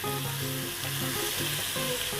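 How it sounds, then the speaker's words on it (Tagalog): Beef strips fry in hot cooking oil in a pan, giving a loud, steady, close sizzle with crackling spatter and no pauses, with a faint tonal hum in the background. "Mainit na yung mantika, so pwede natin ilagay yung ating beef."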